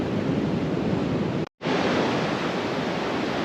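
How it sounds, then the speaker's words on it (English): Big ocean swells break on the shore at a fishing mark, a loud, unbroken roar of surf mixed with wind buffeting the microphone, briefly cut out partway through. "some big swells coming in"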